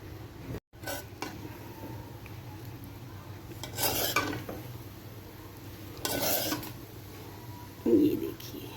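A spoon scrapes through cooked zarda, sweet saffron rice, in a pot with a few short rasping stirs and quiet gaps between them, while a voice talks softly.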